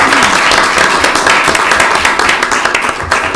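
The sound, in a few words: round of applause for Captain Farringer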